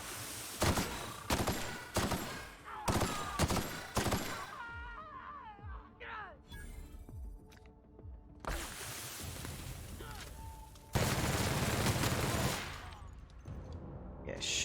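Gunfire in The Outer Worlds rattles out in rapid, loud bursts of automatic shots, broken by brief pauses and a quieter stretch with clanks and tonal game effects before heavy firing resumes.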